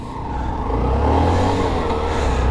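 Hero Super Splendor BS6 125cc five-speed motorcycle engine runs loud and close with a steady, throaty rev that swells slightly and holds for the whole moment.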